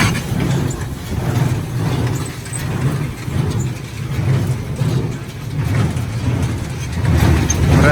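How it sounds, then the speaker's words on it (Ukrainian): A Polish Sipma baler with a 1.7 m pickup runs under test, giving a steady, loud mechanical drone with a low rumble that swells and eases slightly throughout. "На перевірці сьогодні в нас польський прес Сіпман."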